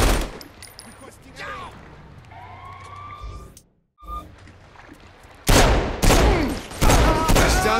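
Saints Row IV video game gunfire crackles in bursts alongside wailing police sirens, sparse at first and then a loud dense fusillade near the end, mixed with talking.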